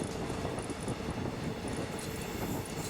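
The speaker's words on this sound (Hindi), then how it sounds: "हमारी ट्रेन की यात्रा जारी है।" A train runs along rails in Serbia or Montenegro, heard from on board as a dense, steady rumble and rattle that stays loud throughout, with no voices.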